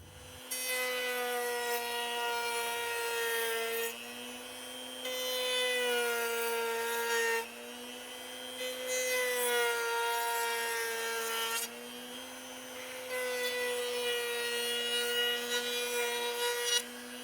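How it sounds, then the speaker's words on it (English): A round-over bit routing the edge of a wooden picture frame on a mini drill press router table, a loud steady high whine with strong harmonics in several long passes, each pass rising then easing, no talk. "now we're going to add this round over at my little mini drill press router table."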